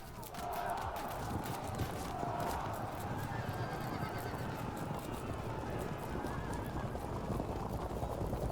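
Horses neigh and whinny amid a steady din of hoofbeats and battle noise in the medieval strategy game Field of Glory 2 Medieval during a Mongol invasion, a continuous dense mix with no voices over it.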